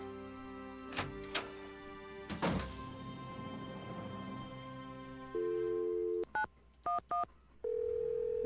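A telephone in a Nancy Drew video game dials 911: a few clicks and a clunk of the handset, then a ringing tone and a series of sharp beeping tones, heard alone and fairly loud.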